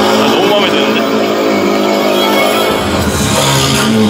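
A Suzuki DR-Z4S motorcycle engine at EICMA 2024 revs loudly and close, a rough buzzing drone that swells and shifts pitch toward the end, with people talking over it.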